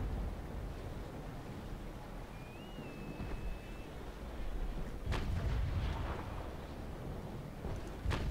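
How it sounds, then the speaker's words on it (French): Cannon broadside from sailing warships in Naval Action, distant booming shots scattered over steady wind and sea noise, with a few sharper, nearer blasts around the middle. "C'est bon, j'ai fini ma bordée."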